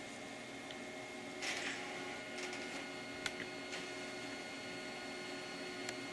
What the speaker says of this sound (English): So we'll just wait for this to print.